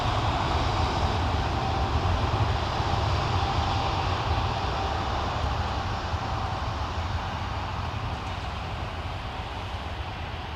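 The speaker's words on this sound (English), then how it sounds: "I swear Dopey Gorp has a sixth sense about this plane and when it's going." Airplane at Newcastle airport rolling on the runway, a steady broad roar of jet engine noise that holds for the full stretch and eases slightly toward the end.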